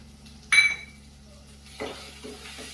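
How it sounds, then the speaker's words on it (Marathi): A spoon stirs salted chicken curry in a pan, sending two sharp metallic clinks against the vessel over a faint, steady background hum. "ते परतून घ्यायचं आहे."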